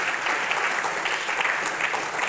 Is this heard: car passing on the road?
no